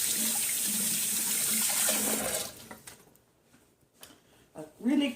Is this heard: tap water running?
yes